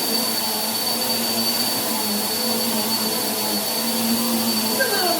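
A Bissell PowerForce Helix upright vacuum cleaner runs steadily, a loud constant whine and rushing airflow with a thin high tone on top, held at even level throughout.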